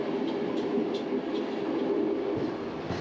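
Interior of a ZPCG local train in Montenegro, riding with a window open through a mountain canyon: a loud, steady rumble and rush of air and wheels, with faint rhythmic rail clicks throughout.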